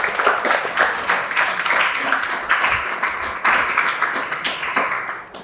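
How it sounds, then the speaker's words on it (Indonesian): Loud, continuous audience applause with dense, rapid clapping holds steady for several seconds, with faint voices underneath. "Tepuk tangan sekali Bang Andi."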